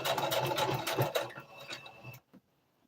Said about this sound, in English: So let me back stitch.